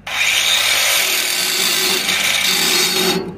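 An angle grinder grinds down the start of a 6010 downhill pipe weld in a 6G test position, a steady, loud, harsh abrasive whine running continuously for about three seconds before cutting off.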